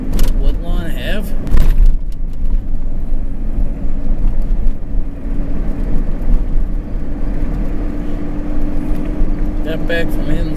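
A truck drives up East Street past Woodlawn Ave in Pittsfield, Massachusetts at night, a steady low road and engine rumble heard from inside, with a brief jingling rattle near the start.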